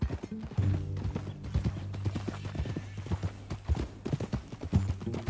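Horse hooves clip-clopping along at a walking pace in Red Dead Redemption 2, close and fairly loud, with a brief whinny and tack noise mixed in and no talk.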